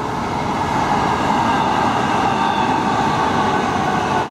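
A train passes close by as a steady, loud roar of rolling rumble that holds for several seconds before cutting off abruptly.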